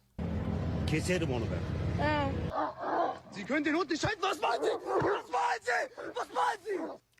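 A dog barks and yelps in a rapid run of short, loud, high calls after a stretch of talk, the barks coming in quick irregular bursts.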